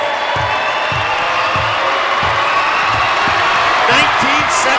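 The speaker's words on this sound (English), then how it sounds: "the Kindred fans are on their feet clapping" Basketball fans on their feet at a girls' state B championship game between Kindred and Grafton, a loud steady roar of cheering and whooping with clapping mixed in, plus a few sneaker squeaks near the end.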